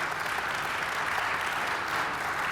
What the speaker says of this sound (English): Let's, first of all, before we go to Q&A, give George a round of applause.